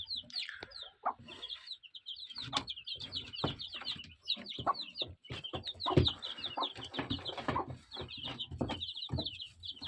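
A hen and her chicks cluck and cheep close by, with rapid high peeping from the chicks over the hen's low, repeated clucks and a few scuffs, and no talk.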